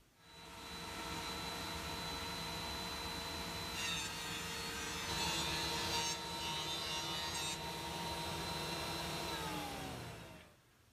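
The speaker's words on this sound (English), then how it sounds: "So now it's off to the planer." A thickness planer runs on a wooden board for a workbench end-cap, its motor spinning up to a steady loud whine, with a rougher cutting stretch midway before the machine winds down and stops.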